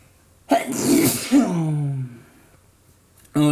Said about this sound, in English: Oh, excuse me, I had to sneeze.